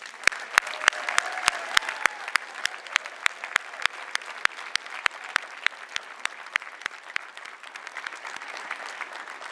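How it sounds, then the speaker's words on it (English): Commencement audience at a university graduation ceremony for health sciences and education graduates breaks into sustained applause, a dense wash of many hands with sharp, distinct claps standing out near the front, steady for the full stretch without speech. "Let us give a round of applause for these exceptional graduates"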